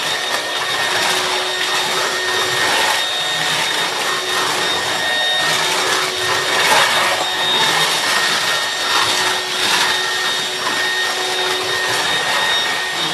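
Dyson DC25 upright bagless vacuum cleaner running on a bare, dirty floor, a loud, steady motor whine with airy suction roar that holds constant, with faint rhythmic surges as it is pushed back and forth.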